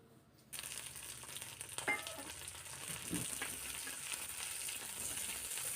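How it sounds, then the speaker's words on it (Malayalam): Onions and curry leaves hit a hot pan and start sautéing with a sudden, soft sizzle that keeps hissing, while a spoon scrapes and stirs now and then; no one speaks. "കറിവേപ്പില ഇട്ട് ഒന്ന് വഴറ്റിയതിന് ശേഷം"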